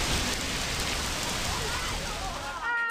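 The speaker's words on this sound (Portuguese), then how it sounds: "A chuva durou cerca de 20 minutos." Heavy rain and hail pouring down during a storm in São Paulo, a dense, loud, continuous hiss of falling water and ice with no break.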